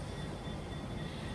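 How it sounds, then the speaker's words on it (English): Steady rumble of a train in motion, heard from on board while riding past parked freight locomotives between Port Kembla and Wollongong; a continuous, moderately quiet low roar with no talk. "we're going to be recording from the train"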